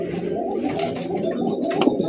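A male Maltese pigeon coos in a run of low, throaty, rolling calls, close and fairly loud, with faint background noise.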